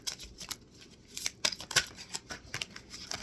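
Tarot cards riffle and snap as they are shuffled and drawn, a quick run of crisp papery flicks and slaps close by at low level, with no voices.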